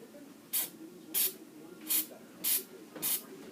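Five short hissing spritzes of silicone spray onto an acrylic paint pour, evenly spaced about two-thirds of a second apart, each a sharp, close burst of mist.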